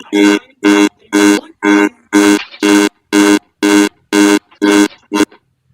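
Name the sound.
alarm going off to signal time is over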